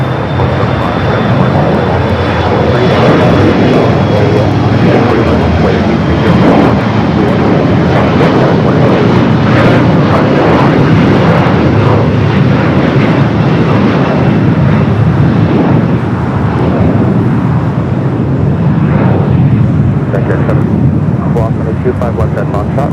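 An Alaska Horizon Embraer E-Jet bound for Medford, Oregon roars loudly and steadily as it departs LAX, with a broad engine rumble that fills the clip and voices talking under it.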